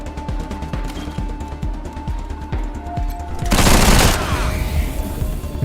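Rapid gunfire rattles in the video game Wasteland 3, a fast string of close shots over a low game hum, then a loud burst of noise like a blast.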